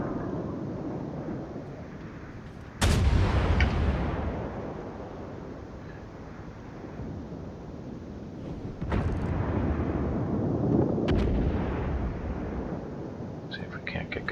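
An artillery gun in a naval video game fires two heavy, booming rounds a few seconds apart, each with a rumbling decay. A steady low background drone runs underneath, with faint clicks near the end.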